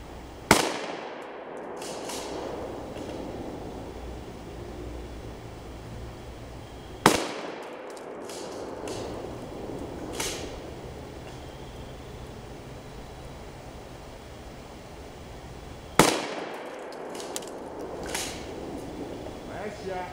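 Three loud, sharp shotgun blasts at an outdoor range firing wax and lead slugs, spaced several seconds apart, each with a quick decay over steady wind noise.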